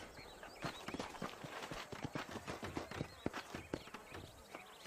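Horse hooves clip-clop in a quick, steady rhythm, several animals trotting close by over a quiet background, in the video game Red Dead Redemption.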